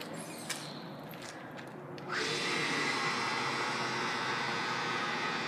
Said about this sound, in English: And listen to the motor.